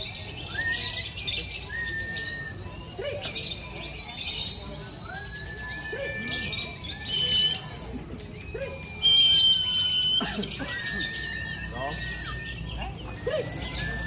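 Caged songbirds at a songbird contest in the fighter class, repeated sharp chirps and whistled calls against crowd murmur, with someone talking over them in a loud outdoor setting.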